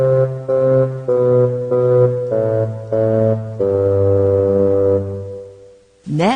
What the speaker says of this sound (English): The father will be called the bassoon.